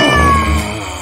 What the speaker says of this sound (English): Go away, kitty.